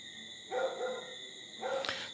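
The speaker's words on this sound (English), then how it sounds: "But the dogs will be barking in the background." Dogs on a goat farm bark faintly in the distance, two brief bursts with a quiet pause between them over a steady background hum.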